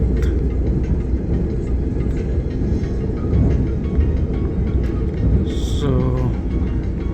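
KLIA Express airport train running from KL Sentral to KL International Airport, a steady loud low rumble of wheels and motors throughout with rattling mechanical noise and brief higher squeals near the end.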